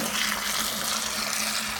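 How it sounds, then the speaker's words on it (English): A garden hose fills a bucket with water as part of a pond water change, giving a steady, even rush of pouring water throughout with no talking. "Then I'll put the hose in that one,"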